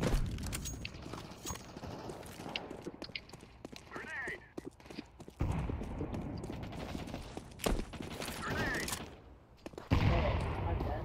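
Gunfire rattles in the video game CS:GO on the Mirage map, coming as several loud bursts and single shots with quieter gaps between them, while voices talk throughout.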